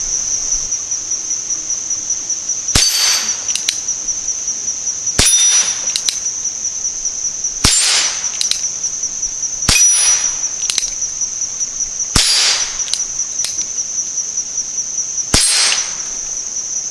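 Ruger Wrangler revolver firing quiet Colibri ammunition outdoors, six sharp, faint snapping shots spaced a few seconds apart over steady insect or cricket buzz.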